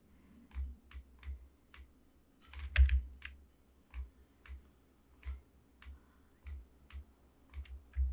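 Computer keyboard keys click in irregular single taps and short bursts while someone works in Maya modeling boots, crisp and close in an otherwise quiet room.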